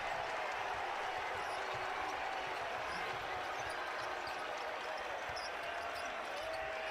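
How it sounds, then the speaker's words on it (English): A packed basketball arena crowd roars and cheers without pause after a made basket in a Virginia Tech at NC State men's game, a dense, loud, unbroken wall of noise. "The crowd goes wild."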